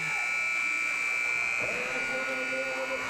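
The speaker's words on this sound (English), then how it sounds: "And there's the buzzer." At a men's college basketball game between Lorain County Community College and CCAC Boyce, the end-of-game buzzer sounds as a sustained, shrill electronic tone over gym crowd noise, with announcers talking.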